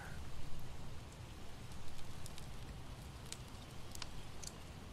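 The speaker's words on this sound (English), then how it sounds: "It's now raining" Steady rain falling in a game world of zombie survival, a constant dense patter with scattered sharp drop ticks, moderately quiet and uniform throughout with no talk.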